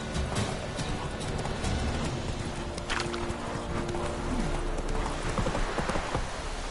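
In a PS4 video game, a horse gallops with a steady run of clip-clop hoofbeats over a dense wash of rain-like ambient noise, loud and continuous throughout.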